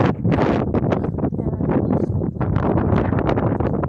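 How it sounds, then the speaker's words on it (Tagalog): Strong wind buffets the microphone outdoors at a hilltop palace ruin in Ras Al Khaimah, UAE, a loud, continuous roar with rapid gusty flutters throughout. "Wow, it's so windy."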